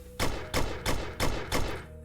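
Turret fire in the Roblox game SCP: Site Roleplay: five evenly spaced, punchy thudding shots, each with a short decay, loud and close over a faint steady background hum.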